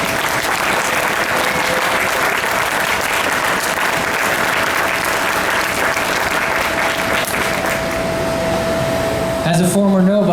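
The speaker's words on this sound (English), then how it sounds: "if you can give yourself a round of applause." An audience claps in a sustained, dense round of applause at a rally, steady and fairly loud throughout, cutting off abruptly near the end.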